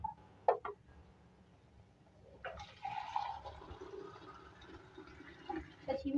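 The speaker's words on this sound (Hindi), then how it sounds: "अब इसमें हम साथ ही इसके अंदर पानी शामिल करेंगे" Water pours into a pan of simmering potato and egg curry, a steady splashing fill lasting several seconds after a couple of brief clinks, fairly quiet and close.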